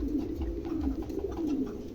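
Exhibition homer pigeons, a male and a black Andalusian female, coo in a low, continuous rolling murmur close by, with no voices.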